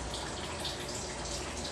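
Water rushes steadily into a pump's pressure tank after the supply is opened, a dense, continuous hiss and gurgle without pauses or talk.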